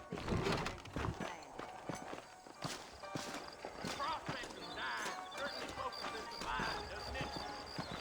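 Horses' hooves clip-clop on the ground in the western video game Red Dead Redemption, a faint, uneven walking rhythm with scattered hoof strikes, while someone talks over it.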